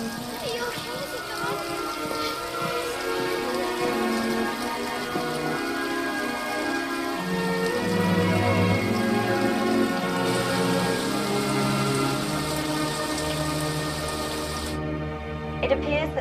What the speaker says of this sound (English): It appears that the rain is a worldwide phenomenon